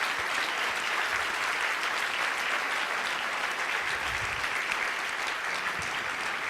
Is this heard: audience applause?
yes